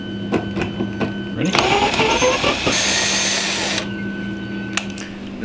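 A power tool whirs loudly for a couple of seconds while removing bolts from a C7 Corvette headlight, with light clicks and ticks before and after and a short spoken word.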